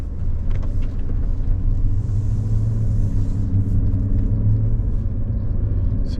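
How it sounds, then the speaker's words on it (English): A 2003 Mercedes S500 AMG with a limp-home-mode fault rumbles steadily on a busy street. The low, close engine and road noise stays even from the cabin. "So we're just gonna drive a little bit."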